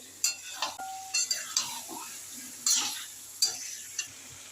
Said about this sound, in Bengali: এখন গিলেগুলো সব দিয়ে দিচ্ছি মশলার সাথে। এবারে আমি কষিয়ে নেবো ভালো করে।